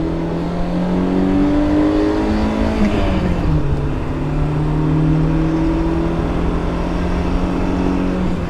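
A BMW E30 M3 engine pulls hard in second gear from inside the car, a loud, steady rising drone with a brief dip in pitch near the middle before it climbs again, with no one talking.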